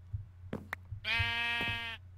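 A single drawn-out sheep bleat in modded Minecraft, loud and close, lasting about a second after a few short clicks and thumps.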